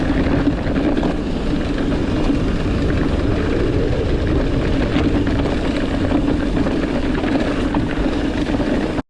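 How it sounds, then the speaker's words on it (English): A GoPro recording outdoors in wind, with its front and top microphones covered by a foam sound muff and wind mode set to auto, picks up a continuous, even, low rumbling buffet throughout. "wind noise test number 2"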